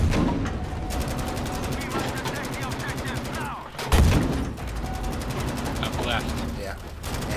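Gunfire from the Battlefield V video game during a firefight around a broken house, dense steady rapid shots throughout with a louder burst near the middle, under excited player voices talking over it.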